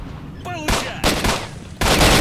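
Gunfire in S.T.A.L.K.E.R.: Shadow of Chernobyl, three loud, sharp bursts of shots spaced across the moment, close and punchy, with a brief voice sounding before the first burst.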